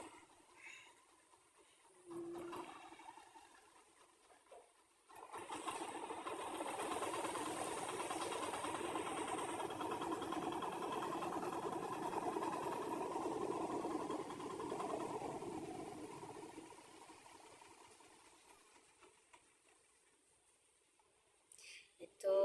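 A launch boat's engine running at Naniarchar launch ghat in Rangamati, a steady droning rumble that swells in after a quiet start, holds loud and continuous, then fades away.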